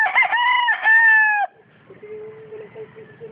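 A rooster crows loud and close for about a second and a half, a single drawn-out call with a strong harmonic ring, then fades into quieter farmyard background with a faint steady tone.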